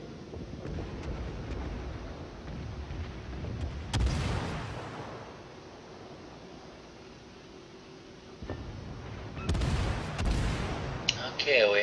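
Naval guns fire at an enemy ship in World of Warships, heavy booming shots rolling out around four seconds and again near the end, over a steady windy, sea-like background rumble.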